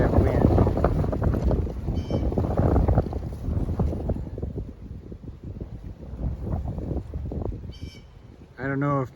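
Outdoor wind on a blustery March day at a beekeeping site, roaring and buffeting loudly against the microphone in uneven gusts, then easing off a little.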